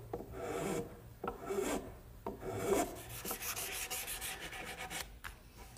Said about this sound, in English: I'm just going to use my rasp and a little bit of sandpaper